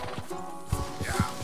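Horse hooves clip-clopping in the Red Dead Redemption 2 video game, a few soft, irregular thuds at moderate distance over a faint ambient background.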